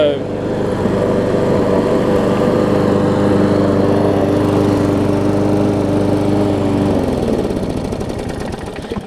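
A Craftsman self-propelled lawn mower with a Briggs & Stratton Quantum OHV engine runs loud and steady close by, with a constant droning hum that begins to drop off near the end.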